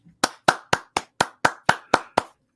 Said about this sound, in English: We got some applause here.